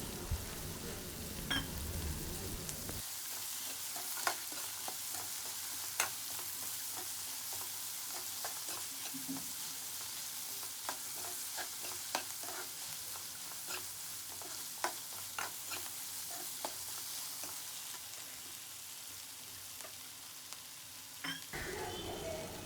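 Fresh green peas fry in a pan for a capsicum rice dish, giving a steady, close sizzle with frequent sharp stirring clicks and scrapes and a louder burst near the start and end.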